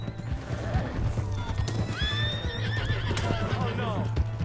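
A horse in Red Dead Redemption 2 neighs loudly in a rising, wavering whinny over a steady clip-clop of hooves, with people talking throughout.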